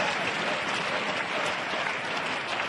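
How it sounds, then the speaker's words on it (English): Crowd applauding and cheering at the men's team kata final of the 2012 World Karate Championships, a steady, dense roar of clapping that holds level throughout, with the murmur of spectators mixed in. "now listen for the crowd to help build up for the jump."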